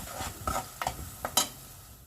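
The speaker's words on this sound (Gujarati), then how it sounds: "હવે આપણે બધા મસાલાને શેકાવા દઈશું." Spice masala roasts in hot oil in a pan with garlic chutney, crackling and sizzling close up while a spoon stirs in several short scraping strokes; no one speaks.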